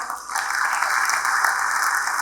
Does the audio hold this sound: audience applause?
yes